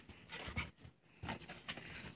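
A dog in a survival video game panting and whimpering in short breathy bursts, close and fairly quiet, with no voices.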